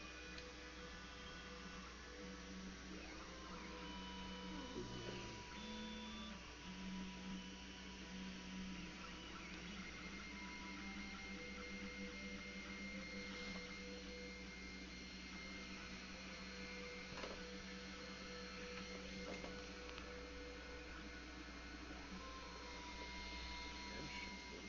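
Creality CR10 3D printer partway through a print, giving a steady close motor hum and whine with shifting tones and faint ticks, continuous for the whole stretch.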